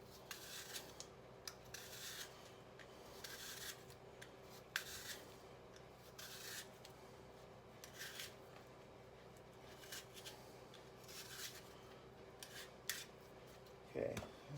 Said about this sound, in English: I just want to peel them to start with. And try and peel them and keep the shape of the apple.